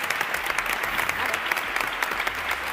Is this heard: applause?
yes